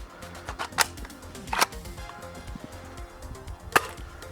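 Nerf Gecko pistol firing Pro foam darts through a chronograph, three sharp snapping shots spaced apart over a faint background.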